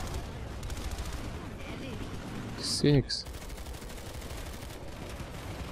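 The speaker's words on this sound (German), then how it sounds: "Ich höre zwar noch Schüsse." Gunfire in the online shooter Planetside 2: continuous background rattle of shots with a louder short burst near the middle, under someone speaking German.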